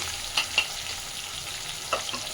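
Ginger paste and spices sizzling in a pan as they sauté for a Bengali pumpkin-leaf chochchori, with a soft continuous fry and a few sharp stirring clicks.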